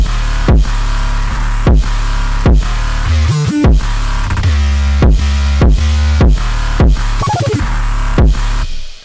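Deep booming 808 bass hits land in a steady rhythmic pattern with crisp percussive clicks, a couple of pitch slides, loud and punchy throughout.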